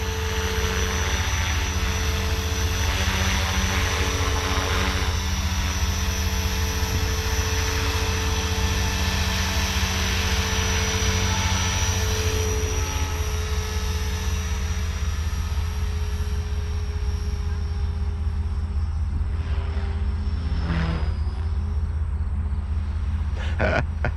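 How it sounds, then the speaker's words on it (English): A Blade 500 3D remote control helicopter's rotor and motor whine drones steadily throughout, a constant buzzing hum with faint background noise, no talking. "I thought they were going to take off the second this helicopter took off."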